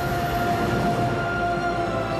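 Train rolling across a railway bridge, a steady, continuous rumble with a sustained tonal hum, heard alone and fairly close throughout.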